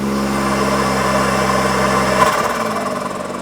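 Can-Am Maverick X3 Turbo RR side-by-side engine is held at full throttle against the brake. A loud, steady, buzzy drone builds turbo boost, then the pitch drops sharply near the end.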